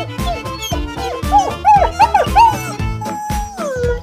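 Dogs shut overnight in an old kennel howl and whimper in protest, close and loud, with rising, wavering howls overlapping between short whines and yips.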